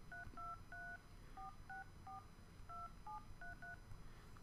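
Quick sequence of about a dozen telephone keypad dialing tones, short evenly spaced beeps in an irregular rhythm, faint and clean against a quiet background hum.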